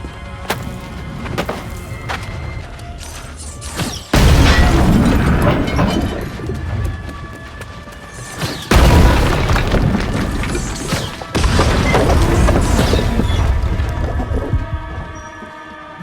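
Explosions rip through an Azoth refining station in the New World Aeternum game, three loud booming blasts at intervals, each followed by sustained rumbling debris and crackle, with no talking.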